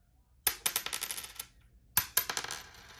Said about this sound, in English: Copper has a distinct ping, whereas the zinc ones, no ping at all.